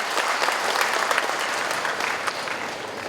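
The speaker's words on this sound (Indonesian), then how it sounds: "Kita berikan tepuk tangan juga untuk Pak RW." Audience applause at a Bandung city government launch event honoring the neighborhood head, a dense steady clapping that fills the room for a few seconds without a break.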